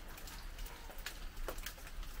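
Steady rain pours down, a dense hiss with occasional louder drops splashing nearby.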